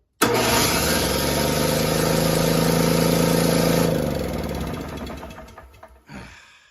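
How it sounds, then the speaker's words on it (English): An Ariens SS522e snowblower engine cranked by its electric starter, a loud, steady, chattering whir for about four seconds, then winding down and fading, followed by a short final clunk. "this should suck in and spin the motor over"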